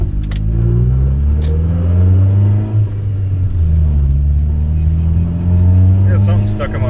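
A 1990 Honda Civic engine on a stock tune drones steadily and rises in pitch as it accelerates, with rain-like hiss in the background and no talking.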